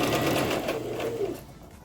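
A sewing machine stitches tulle for a tutu in a short steady whirring burst, close and fairly loud, fading out near the end.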